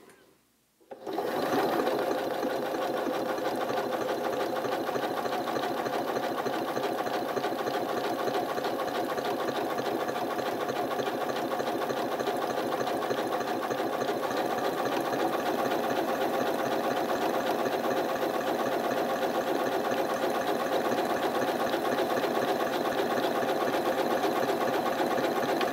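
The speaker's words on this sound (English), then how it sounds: "I'm going to stitch down here. I'm going to do my lock stitch" A Janome MC9450 sewing machine runs a steady lock stitch, its motor humming and needle clattering continuously and loud at close range for about 24 seconds, starting just after a brief silent moment.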